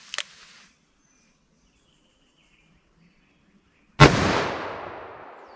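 A .44 Magnum or 10mm Buffalo Bore handgun fires a single loud, sharp shot that rings out and decays slowly, preceded by a brief faint crack and near silence.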